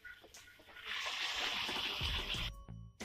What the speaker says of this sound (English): Now adding the tomato puree.